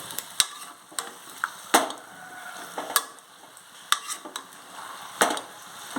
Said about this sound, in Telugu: ఇలా మంచిగా కలుపుకున్నామండి